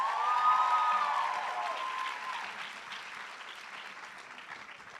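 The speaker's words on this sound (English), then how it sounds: "Please join us in giving our SASA 2020 presidents another round of applause." Moderately faint applause from an audience at a student cultural show honoring the student presidents, even clapping with some cheering voices at the start, tapering off over several seconds.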